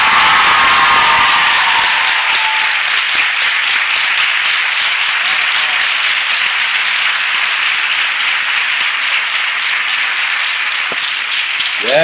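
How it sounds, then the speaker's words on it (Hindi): Loud, sustained applause from a church congregation in Chhattisgarh, many people clapping together in a dense steady roar that holds for the whole stretch and eases slightly near the end. "ऐसी ताली बजाओ जो इस कलीसिया में आज तक नहीं बजी होगी।"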